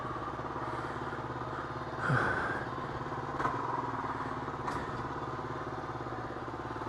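A Kawasaki KLR 250 motorcycle idles after a carburettor rebuild: a steady, close engine putter with a brief throttle blip partway through and a small knock later, with no talk.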